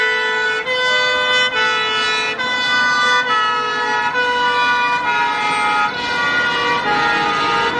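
A toy ladder fire truck's electronic siren wails in a steady repeating two-tone pattern, loud and close, running continuously without speech.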